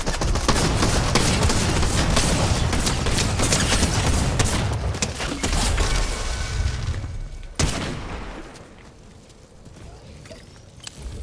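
Dense, sustained gunfire from a battle royale video game firefight, loud bursts and booms filling most of the stretch before a sudden sharp blast, then quieter lingering shots fading toward the end.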